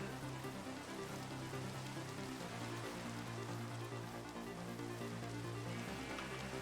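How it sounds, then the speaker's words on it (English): Steady rain falls in Minecraft as a continuous, even hiss of drops with no breaks, alone and without any talking over it. "Oh, look at that, it's raining again."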